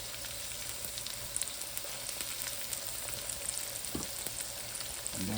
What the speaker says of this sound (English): letting that saute